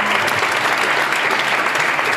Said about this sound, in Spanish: Fuerte aplauso para Bati.